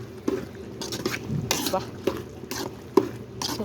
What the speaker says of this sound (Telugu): ఇంకా కొంతసేపు పచ్చివాసన పోయేంత వరకు ఉడకబెట్టుకుంటా చూడండి అలా ఉడుకుతుంది